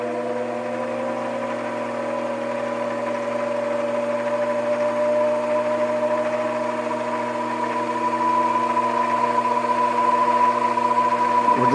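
A Grizzly mini lathe motor hums steadily and loudly up close, its whine slowly rising in pitch as the speed is turned up, with a constant mechanical drone underneath and no talking.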